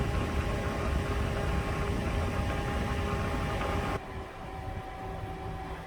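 A steady, broadband whooshing hum of an Arctic Air portable evaporative air cooler runs continuously inside a truck, with a faint tonal whine, then drops slightly quieter near the end.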